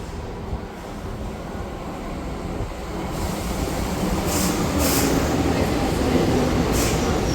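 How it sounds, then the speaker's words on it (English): Rumbling train noise builds and grows louder, with a steady rolling roar and faint rattling, as if aboard a moving train in Japan. "So we just got off the train"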